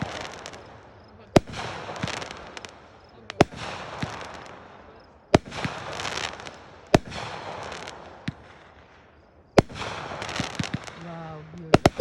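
Fireworks burst outdoors on the 4th of July in the USA: a string of sharp, loud bangs at irregular intervals, each followed by crackling fizz. A few faint voices murmur in between.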